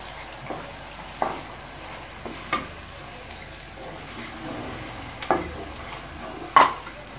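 A spoon stirs chicken in a pan while a flour mixture is slowly added for tikka macaroni, producing soft scraping strokes and several sharp clinks against the pan over a faint background sizzle, with no voices.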